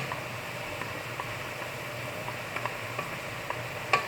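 Carrot, zucchini and onion sautéing in a pan, a steady soft sizzle with occasional light clicks of a utensil stirring.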